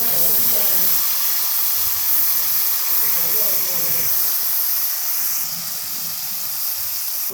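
Ginger garlic paste sizzles steadily in hot oil for an okra masala dish, a loud, even hiss that fills the whole stretch and eases slightly toward the end.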